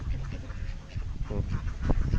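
Egg-laying ducks quack nearby in a few short bursts on a farm with chickens, with faint background noise and murmuring around them.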